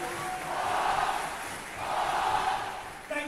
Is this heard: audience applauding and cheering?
yes